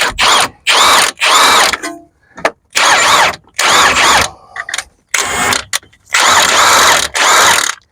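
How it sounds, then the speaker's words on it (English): A power tool tightens a 16 mm nut on a BMW E92 3 Series front suspension, whirring in loud repeated bursts of about half a second to a second, separated by short pauses, close by. "I'm going to tighten up this 16 mil."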